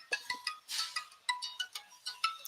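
A mobile phone ringtone plays a repeating melodic pattern of bright electronic tones, cycling several times in quick, even bursts. It is fairly close and alone, with no voices.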